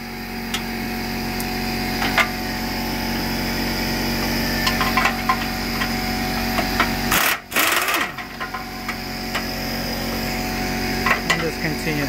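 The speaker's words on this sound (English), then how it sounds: "I'm gonna use a torque wrench so it's a little faster." A wrench working 14 mm bolts on a 2010 Subaru Outback, a steady fast buzzing ratchet-like whir running almost throughout, close and loud, briefly interrupted by a clunk partway through, with speech faintly in the background.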